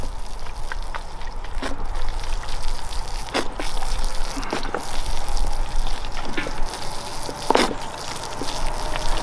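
Water pours and trickles onto the soil of a freshly repotted barberry bonsai, a steady close gush with scattered splashes and drips, no talking.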